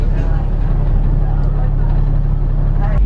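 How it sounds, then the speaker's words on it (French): Inside a moving bus on a Sunday in Hong Kong, a steady low engine rumble and road drone fill the space, with soft rattles and clicks riding on top throughout. "je suis dans le bus"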